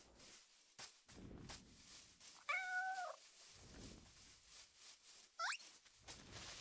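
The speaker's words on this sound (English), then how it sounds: "A really small cat." Small Minecraft cats meow a few times in a video game, short rising mews spaced apart over quiet background noise.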